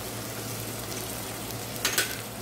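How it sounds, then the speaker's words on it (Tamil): Onions sizzle steadily while being sautéed in a pan for mutton biryani, a soft continuous frying hiss with a brief stir or clatter near the end. "இப்போ வெங்காயம் நல்லா வதங்கிடுச்சு இல்லையா."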